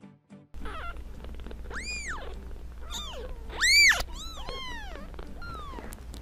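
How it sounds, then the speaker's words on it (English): A domestic cat meows repeatedly and insistently, several rising-and-falling calls with one louder, sharper meow in the middle, close by over a low steady background hum. "My cat meows at me until I do this."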